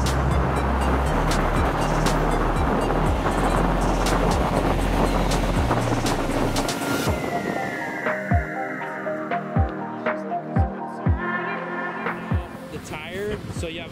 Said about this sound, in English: Now we got Billy in the Honda just pinning it.